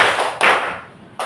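Classroom clapping game, with a group of pupils clapping together in unison: three sharp, loud, reverberant claps spaced about 0.4 to 0.8 seconds apart, with no talking.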